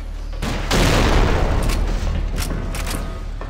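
Gunfire and explosions from the video game TimeShift, set in a trainyard: a dense, loud burst of booming blasts and rapid shots lasting several seconds, with a few sharper cracks toward the end.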